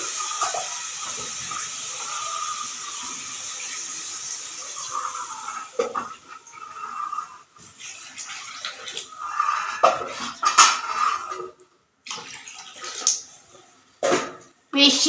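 Water poured into a pan of lentil fritter curry (masoor dal dhoka) after the spices are fried, giving a hissing, splashing rush against clinking pots, with people talking at intervals.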